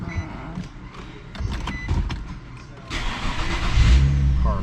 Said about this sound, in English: Car start.